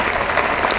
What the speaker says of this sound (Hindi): I need the applause, and then I will share better